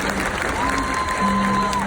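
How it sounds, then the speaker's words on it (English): Applause from an audience at a SeaWorld show, a steady wash of clapping for about two seconds with a tonal whistle-like line and some crowd sound mixed in. "How about a huge round of applause for Ivan?"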